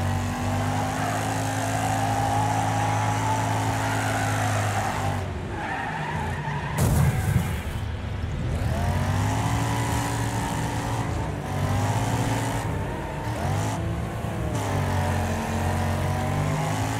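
A race car in the video game Wreckfest at Big Valley Speedway drones with a steady engine, its pitch swooping as the tires skid and squeal through turns, with a brief impact near the middle and no talking.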